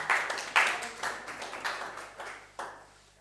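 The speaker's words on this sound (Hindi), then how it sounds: "इनके लिए एक दफ़ा फिर ताली बजाएं।" A classroom audience clapping for a student, a loose burst of scattered hand claps in about seven uneven waves that fade toward the end, fairly close and moderately quiet.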